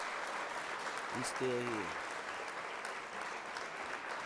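Applause rolls on steadily at moderate volume through the whole stretch, a broad clapping wash with a short spoken phrase over it.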